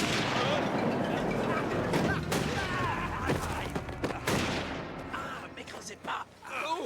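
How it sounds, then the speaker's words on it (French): Dense rapid gunfire crackles and booms in a rolling barrage, loud at first and then thinning into scattered shots, with voices talking underneath. "C'est pas sur nous qu'il tire."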